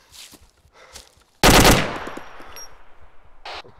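A loud, close burst of machine gun fire in the video game ArmA 2, a rapid rattle lasting under half a second that rings off into a long fading echo, with faint distant shots before and after.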